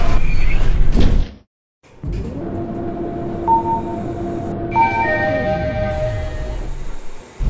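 Sliding doors of a lift in a shopping centre slide shut with a rumbling mechanical run, followed by a steady motor hum and tonal whine as the car moves, with a brief gap of near silence early on.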